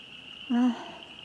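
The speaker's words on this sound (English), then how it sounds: "I hear frogs." Faint, distant frogs keep up a steady high-pitched chorus at night throughout, and one short, low call rises briefly in the middle.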